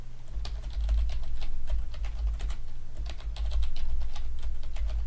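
Computer keyboard keys tapped in quick irregular bursts while entering a root password during Linux system setup, close and crisp over a low steady hum.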